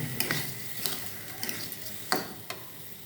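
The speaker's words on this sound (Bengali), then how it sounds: "ঝোল দিয়ে, মাছের ঝোল দিয়ে আমরা চালগুনা ভেজে নেব।" Rice grains being fried in hilsa fish broth for potato and hilsa pulao, giving a faint, steady sizzle with a few scattered scraping clicks of a spoon against the pan.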